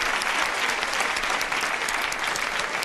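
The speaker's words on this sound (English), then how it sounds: "Give him a round of applause." A studio audience applauds in a dense, steady burst of clapping that holds at full loudness throughout, with no voices over it.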